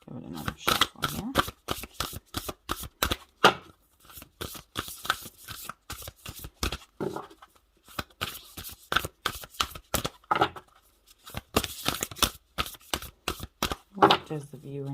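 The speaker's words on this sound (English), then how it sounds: "Give it another shuffle here." A deck of tarot cards is shuffled by hand in quick riffling bursts of papery flicks and taps, close and fairly quiet, with short pauses between rounds.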